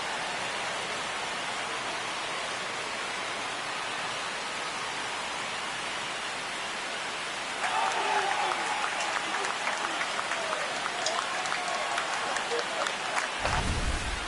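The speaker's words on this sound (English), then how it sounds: "Here comes the crowd. They're feeling it right now." Stadium crowd in the MLB 26 video game erupts into a loud, sustained roar of cheering after a home run, swelling suddenly midway and holding steady, with a low thump near the end.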